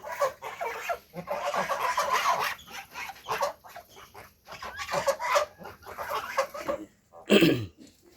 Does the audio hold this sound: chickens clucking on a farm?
yes